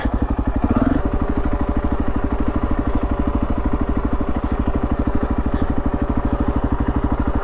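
A motorcycle engine chugs loudly and steadily in a fast regular pulse while riding through tight corners on a desert mountain track in Iran, with a brief rev near the start.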